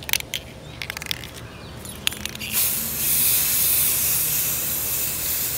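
A spray can lays down a second coat of clear gloss on Jeep cowls, a steady close hiss starting partway through and continuing alone after a few earlier short clicks and rattles.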